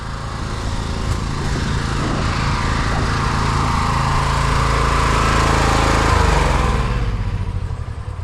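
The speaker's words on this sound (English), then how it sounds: "I'm just gonna turn off my pressure washer because if I leave it running," A gasoline pressure washer engine drones loudly and steadily, close by, with a buzzing mechanical hum that stays constant before beginning to wind down at the end.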